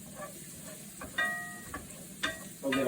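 Garlic sautéing in a pan, a soft steady sizzle broken by a few sharp clinks and scrapes of a utensil against the pan.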